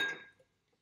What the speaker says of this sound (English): I'm just going to pop in a couple of ice cubes in there